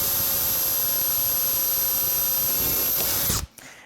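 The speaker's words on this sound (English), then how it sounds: "you can just drill right into that hole" A power drill whines steadily at high speed for a few seconds, boring into a rivet hole in a frame, close and loud, then cuts off sharply.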